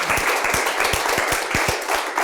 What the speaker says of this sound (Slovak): jeden potlesk pre vás